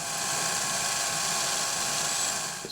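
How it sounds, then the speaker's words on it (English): A drill bores a letter C size hole in a part for a Crusader 60 model aircraft engine, producing a steady, continuous whine and grind that holds at an even level throughout, with no talking. "I'm going to drill letter C, and then we'll ream 1/4 inch."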